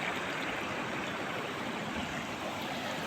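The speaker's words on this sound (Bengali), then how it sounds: "এখান দিয়ে পুরো জল বয়ে যাচ্ছে, ওই জায়গাটা স্রোত আছে।" A mountain stream flowing among hills, a steady, dense rush of water that sounds fairly close and continuous, with no talking.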